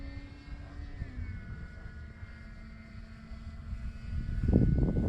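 A Cermark Fantasy Flyer RC model plane flies overhead, its small engine a faint, steady buzzing whine with a slight pitch drop, joined by louder low rumbling toward the end.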